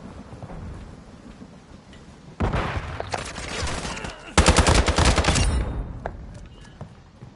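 Gunfire in Call of Duty Modern Warfare 2, low rumbling background that erupts into heavy sustained automatic fire, pauses briefly, then a second louder rapid burst before fading to scattered distant shots.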